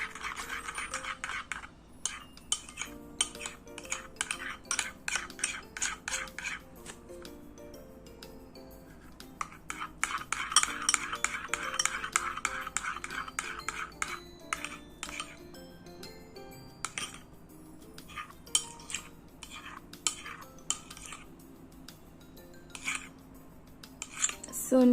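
Clear glue slime being stirred with baking soda in a container, giving a steady run of close, quick scraping and clinking strokes of a utensil against the sides, with a few short pauses between bursts.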